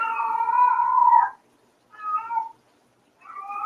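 A domestic cat meows three times close by: a long drawn-out call followed by two shorter ones with brief silent gaps between them, and no other sound in the background.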